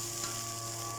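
Giant freshwater prawns sizzling in a wok of frying nasi goreng, a steady, even hiss of hot oil with a constant low hum behind it and no talking.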